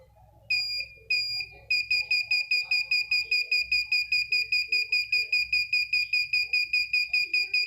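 Arduino Uno parking sensor buzzer beeping rapidly at close range, a steady fast train of high-pitched beeps after a couple of slower ones, with quiet speech murmuring underneath.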